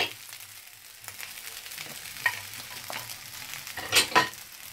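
Prawn fried rice with broccoli sizzles and crackles steadily in a hot pan, with soft scraping and stirring noises and a couple of louder tossing clatters near the end; no talking.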